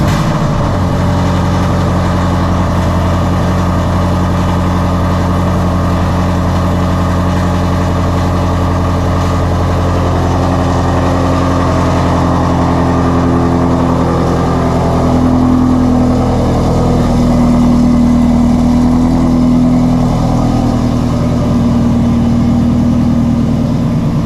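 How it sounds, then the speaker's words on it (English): Shelby GT350 V8 on a cold start, idling loud and rough with deep steady rumble, its pitch rising and falling through revs before settling, heard close and alone. "let's get a cold start. Valves are closed, but it's still gonna be stupid loud."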